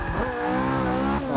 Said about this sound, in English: Right, I'm braking.